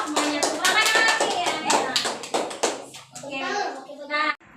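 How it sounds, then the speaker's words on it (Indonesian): Children in a third-grade classroom clap their hands together, a run of close, sharp slaps and taps under a continuous chatter of kids' voices, thinning out toward the end. "Tepuk tangan dong semuanya"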